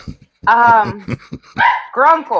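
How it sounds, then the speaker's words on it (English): Barking dogs in the background of an argumentative conversation, with yips and barks mixed under loud, continuous talking that dominates most of the clip. "Sorry about the barking dogs."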